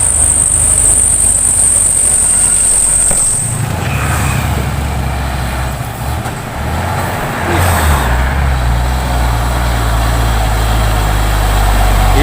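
A Hino truck engine idles steadily and loud in the foreground, a continuous low rumble that holds throughout, with some shifting in level midway and a faint high whine at the start.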